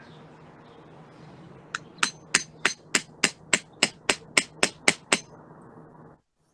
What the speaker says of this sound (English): you're always going to use a metal hammer